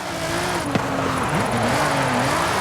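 Nissan GT-R drift car with a VR38 DET engine in the racing game Forza Horizon 5, a loud sustained engine drone whose pitch dips and rises as the revs shift, with a brief tire-squeal chirp.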